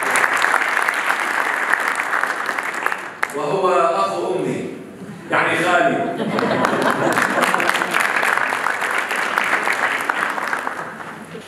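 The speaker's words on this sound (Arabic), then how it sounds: "تصفيق حميم" A church gathering for the Assumption of Mother Mary breaks into warm applause, dense clapping that fills most of the span, interrupted midway by someone speaking alone before the clapping resumes.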